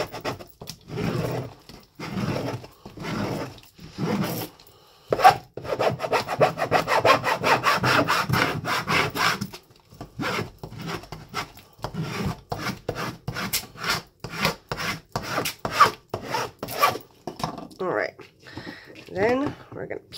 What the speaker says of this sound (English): So I like to take my Cricut scraper.